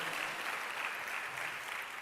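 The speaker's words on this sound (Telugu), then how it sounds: "చప్పట్లు కొట్టి యేసుని మనం మహిమపడదాం" A church congregation clapping in praise of Jesus during a sermon: a dense, steady wash of many hands applauding together, with no gaps.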